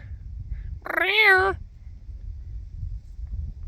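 A single clear cat meow, drawn out and rising then falling, close by over low background rumble.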